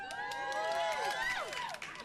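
A recorded crowd cheers and whoops with rising and falling shouts and whistles, a lively burst of excited voices that drops off abruptly near the end.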